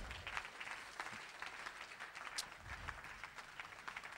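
Church congregation clapping and applauding during a French-language sermon, a dense patter of many hands at moderate distance, steady throughout with a few sharper claps.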